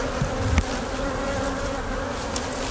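A close, continuous buzz of many honey bees fills an opened beehive during hive maintenance, steady and dense throughout, with a faint knock near the start and no talk.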